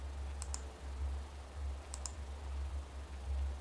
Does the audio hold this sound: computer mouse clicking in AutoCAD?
yes